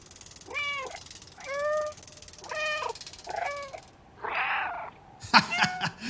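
Cat in the game Stray, four distinct meows in a row, then a rougher breathy call and a short noisy burst, close and clear with no talk.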